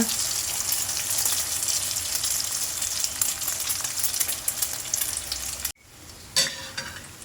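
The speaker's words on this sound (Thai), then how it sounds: "แล้วก็เทไข่ลงไปเลยค่ะ ค่อยๆลาดลงไปในกระทะนะคะ" Loud, dense sizzling as two beaten eggs are poured through a fine strainer into hot oil fills the pan for several seconds, then abruptly drops to a quieter bubbling crackle.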